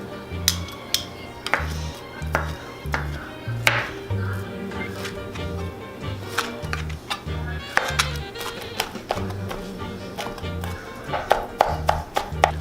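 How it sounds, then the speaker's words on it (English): A knife chops cooked chicken into small pieces on a cutting board, a steady run of sharp, close knocks with a low rhythmic beat playing underneath. "I'm gonna go ahead and start chopping it up into little pieces"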